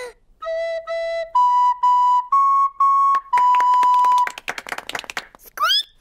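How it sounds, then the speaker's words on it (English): Cartoon recorder playing a simple tune of held, whistle-like notes stepping upward, loud and clear on its own, ending in a few quick squeaky notes. "I'm going to play the recorder."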